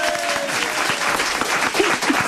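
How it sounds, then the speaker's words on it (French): Audience applause in a studio after a musical performance, a continuous dense wash of clapping with a brief voice passing underneath. "Et tout le monde va t'applaudir ici."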